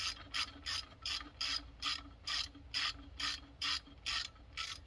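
Ratchet wrench tightening a T50 Torx bolt on a motorcycle, a dozen or so quick regular clicking strokes, close and fairly quiet, with no talk.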